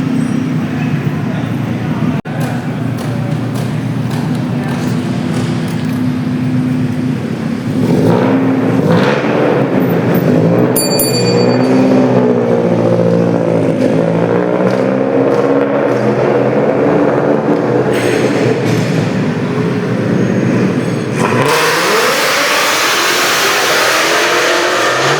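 Loud car engines at a Manila car show roar and rev, rising and falling in pitch through sustained throttle, with crowd chatter and voices underneath and a sharp change in tone near the end.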